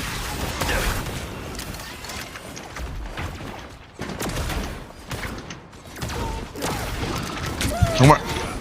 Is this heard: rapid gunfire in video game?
yes